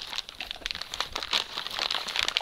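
Plastic bag crinkling and rustling steadily for a couple of seconds as it is opened, close and fairly loud, with no talking.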